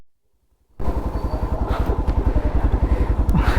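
After a brief silence, a KTM RC390 motorcycle rumbles loudly and steadily while being ridden on a rainy-season trip. The engine note is close and continuous, with a rhythmic low throb and nobody talking.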